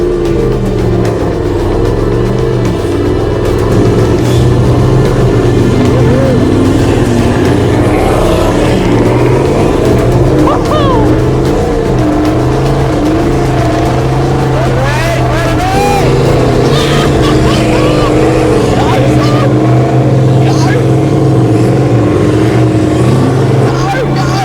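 A Toyota with an 8-speed automatic in sport mode revs hard on loose island sand, its engine drone loud and continuous throughout with a voice talking over it.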